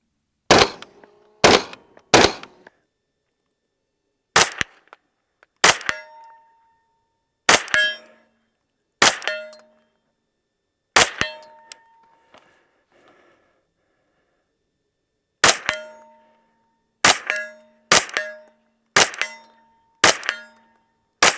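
Sharp gunshots from a Smith & Wesson FPC 9mm carbine, fired singly outdoors in irregular spaced shots, each a loud crack followed by a short ringing tail, with a pause midway before a final quicker run of shots.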